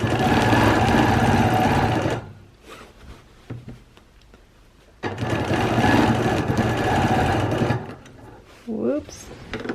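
A sewing machine quilting wavy lines hums close and loud in two long stitching runs separated by a quiet pause with small handling sounds, and a voice speaks faintly near the end.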